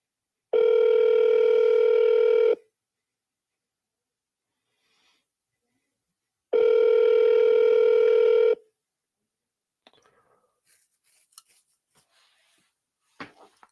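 Two long, loud telephone tones about two seconds each, separated by silence, during a sales call session of dialing leads, followed by faint small handling noises.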